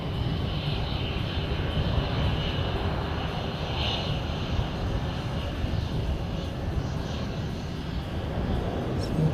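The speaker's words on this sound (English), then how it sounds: "Jetstar's come all the way down the end here to see us." A Jetstar airliner taxis at Christchurch airport, its engines giving a steady, loud whine and rumble that holds nearly constant throughout at fairly close range, with no talk over it.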